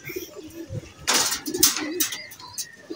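Racing pigeons cooing at the loft, soft repeated coos with a few brief sharper bird calls and light fluttering, with a voice faintly in the background.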